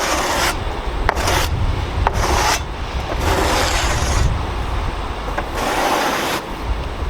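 Sawdust being brushed off a fresh cut on a 1987 Wood-Mizer LT-40 sawmill: a series of broad, raspy sweeping strokes in uneven bursts, close and fairly loud, with no talking.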